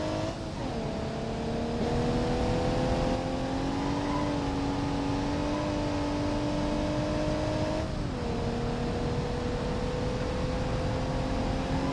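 A car driven in the BeamNG.drive game, its engine holding a steady loud drone with a brief dip and shift partway through, running continuously throughout.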